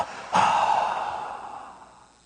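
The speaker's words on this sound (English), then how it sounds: "Throw the breath out." One long, deep breath exhaled during a guided meditation breathing exercise, opening with a soft rush of air that gradually fades away. Heard alone and fairly close, with no talking.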